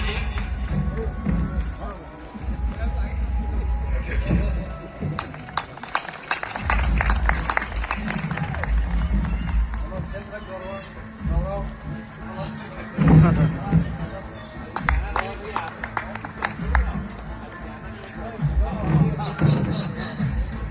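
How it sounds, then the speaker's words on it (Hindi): Audience applause greets a poet at a Hindi kavi sammelan, a humorous poetry gathering on stage. Dense, steady clapping mixed with crowd noise runs throughout, swelling briefly around the middle. "आइए जोरदार ताली के बीच में आमंत्रित करता हूँ"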